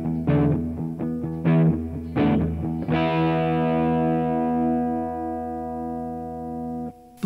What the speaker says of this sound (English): We have some subtle reverb, some subtle distortion,